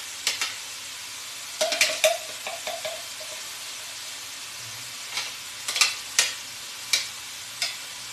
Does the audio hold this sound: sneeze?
no